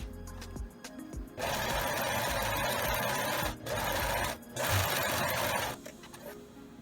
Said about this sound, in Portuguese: E agora eu vou fazer a segunda costura.